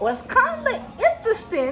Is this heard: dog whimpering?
yes